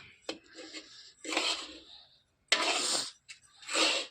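Dry, gritty rubbing and rasping comes in several short bursts as sugar is mixed by hand into rice flour for pinni, close and fairly loud with short quiet gaps between strokes.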